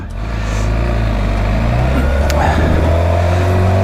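A 2007 Suzuki GSX-R750 K7 sport motorcycle being ridden on the road, its engine droning loud and steady close by with a low rumbling tone throughout, plus wind and traffic noise.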